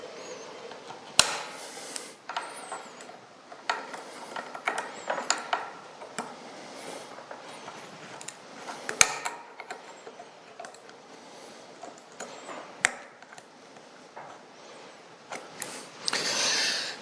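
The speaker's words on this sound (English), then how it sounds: "I want to get the snap ring taken off the PTO shaft here at the back" Metal tool work on the rear PTO shaft of a 1967 John Deere 710 tractor, prying off a snap ring with pliers: scattered sharp clicks, ticks and scraping metallic ratchet-like noises at close range, irregular, with no talking.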